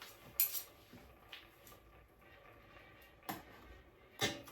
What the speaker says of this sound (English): So I'm going to turn the shrimp over with these.